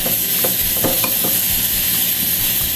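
Two spoonfuls of simple mayonnaise being stirred in a small, tightly filled bowl, with soft, repeated scraping strokes of the spoon against the bowl under a steady background hiss.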